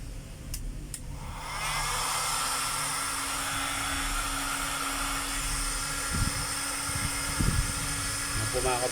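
A Stanley STEL670 heat gun runs on test after a cord clamp repair, kicking in after a second of quiet and then holding a steady, loud broadband blowing whir with a faint hum, plus a few brief knocks near the end.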